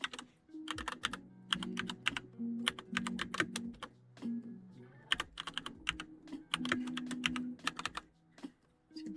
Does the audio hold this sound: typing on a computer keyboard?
yes